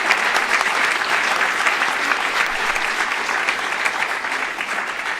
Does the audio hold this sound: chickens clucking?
no